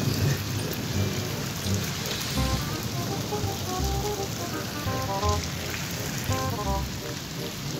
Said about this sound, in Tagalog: nabutan na ako ng ulan